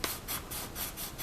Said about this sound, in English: I'll just show you how I'm sanding this